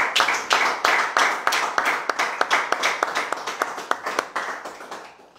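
A church congregation claps for Jesus, a dense crowd applause breaking into steady rhythmic group clapping with loud sharp beats that gradually soften and fade out, cheering voices faintly mixed in.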